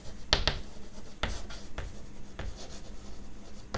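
Chalk writing on a board during an accounts lecture: a run of scratchy strokes with sharp taps as words are written, close and clear with no speech.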